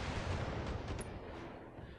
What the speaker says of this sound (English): And we got ammo explosion.